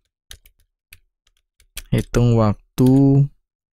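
Light, sparse keyboard clicks tap close by on a computer while someone types code. Speech follows in the second half.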